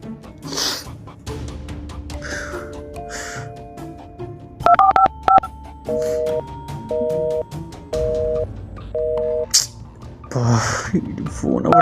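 Telephone keypad dialing tones on a call that fails to connect: a series of short, evenly spaced beeps and steady tones in a quiet room, with brief talking and breathing before and after.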